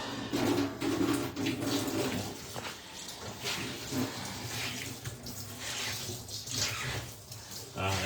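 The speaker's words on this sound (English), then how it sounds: "Keep rinsing it." Running water rinsing a freshly dyed spiral tie-dye shirt at a sink, a steady close splashing wash that continues throughout, with faint voices in the background.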